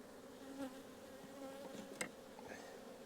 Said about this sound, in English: And I'll be shaking bees in here in a minute